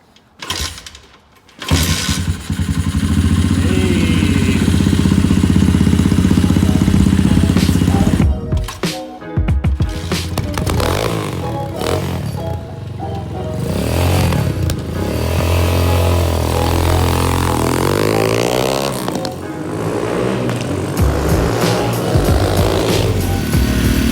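A Lifan 250 dirt bike left outside for four years is kicked over and coughs to life, with a few false starts, then revs and idles roughly, loud and close, for over twenty seconds.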